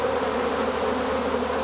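Swarming bees buzz around a hive box and nuc, where a queen has settled. The buzzing is a dense, continuous drone, loud and close, with no voices.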